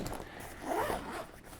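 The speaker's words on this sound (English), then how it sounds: "There's a little zipper on the bottom. I don't know if you'll be able to see this very well, but you just start unzipping all the way around," The expansion zipper around the bottom of a medium expandable Knack Pack backpack being unzipped, giving a short, quiet, close-up rasping pull that swells briefly and fades.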